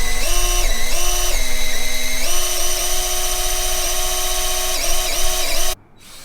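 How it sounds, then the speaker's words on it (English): Electric drill spinning the oil pump of a 1985 Formula 302 SR1 speed boat engine to prime it, a loud steady whine that shifts pitch several times before stopping abruptly. "I've got my drill inserted into my oil pump"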